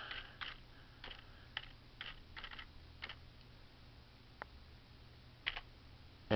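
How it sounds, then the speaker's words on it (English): Someone types a password on a computer keyboard to log into a Raspberry Pi, giving a quiet, close run of irregular key clicks with short pauses, no voices. "Type in the password."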